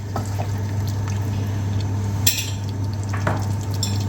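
Mutton and peas are stirred in a pot of aloo gosht, with a low simmering sizzle, scraping and wet stirring sounds, and a couple of sharper clinks of the spoon against the pot.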